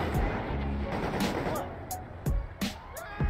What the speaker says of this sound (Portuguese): Tomando tiro ali, nem sei da onde.